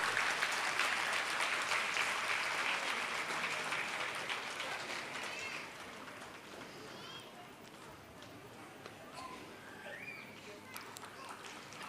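An audience claps for a student at a school annual day, with dense applause that gradually thins and softens and a voice speaking over the tail.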